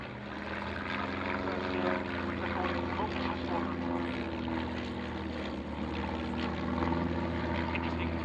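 A Chinook helicopter at the Fairford air display gives off a steady, distant rotor and engine drone that holds evenly throughout, with faint crowd or commentary noise beneath.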